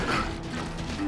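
Gun reload in the western shooter game Call of Juarez: Gunslinger, a quick close mechanical click-clack of the weapon's parts lasting about a second.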